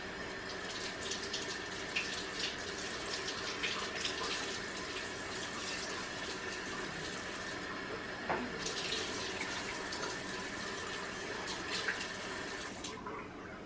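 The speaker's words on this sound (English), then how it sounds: "And then I'm going to step to the sink, rinse them off." Tap water runs steadily into a kitchen sink as blueberries are rinsed, a continuous close splashing flow with small shifts in tone as the fruit is moved under the stream, no talking.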